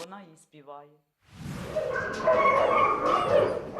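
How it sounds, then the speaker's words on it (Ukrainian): Belgian Malinois puppies in an enclosure yelp and bark over a busy outdoor din, loud and continuous, after a short burst of talk at the start. "У вольєрі цуценята бельгійської вівчарки Малінуа."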